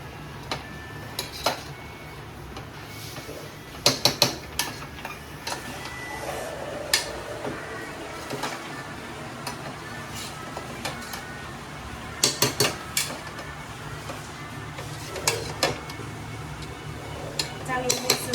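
A spoon clinks and scrapes against a pot while dal mixture is stirred, giving repeated sharp taps over a low hum, with a voice talking in between.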